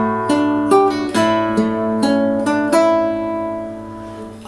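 A fingerstyle acoustic guitar plays measure 21 of a piece from Lord of the Rings, a short phrase of plucked notes and ringing chords, each attack sustaining into the next, close and clear with no talking.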